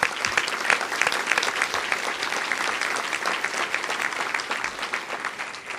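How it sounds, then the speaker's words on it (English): An awards-event audience claps, a full room of steady applause with a slight swell early on, then gradually tapering toward the end, with no speech over it. "so let's give a round of applause"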